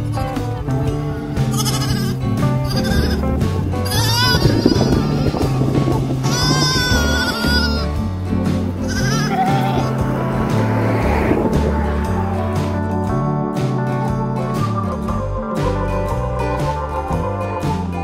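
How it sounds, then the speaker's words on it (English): Two tiny newborn baby goats, umbilical cords still attached, bleat loudly and repeatedly at close range on Carriacou, their calls layered over a dense continuous background without talking. "Two very tiny baby goats."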